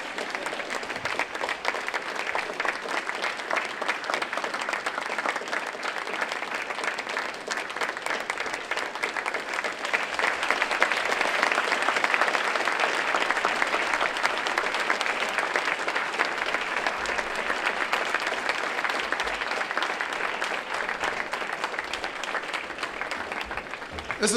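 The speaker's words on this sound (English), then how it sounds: "Normally you keep the clapping going until he enters the room" A crowd keeps up long, continuous applause to welcome Dr. Sebi at a Newlife Natural event. The dense clapping swells slightly midway and carries on evenly without voices.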